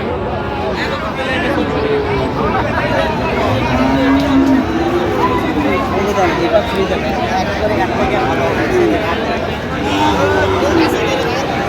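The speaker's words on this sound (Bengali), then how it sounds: "ফ্রিজিয়ামের ষাঁড় বাচ্চা।" A Friesian bull calf moos once or twice amid the busy chatter and voices of a crowded cattle market in Dinajpur.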